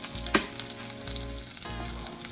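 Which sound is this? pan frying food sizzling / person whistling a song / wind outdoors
pan frying food sizzling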